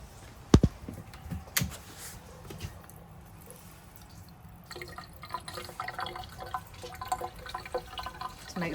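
Water dripping and running from a faucet while a Truma AquaGo water heater is flushed, with close splashes and trickling, a couple of sharp knocks early on, then a steadier flow in the latter half.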